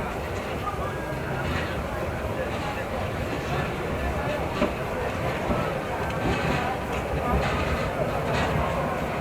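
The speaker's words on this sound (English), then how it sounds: "Yes, the train starts." A slow train pulls away from Bagan railway station in Myanmar, heading for Yangon; a steady broadband rumble of rolling wheels and rail noise fills the scene with faint clacks, while voices murmur underneath.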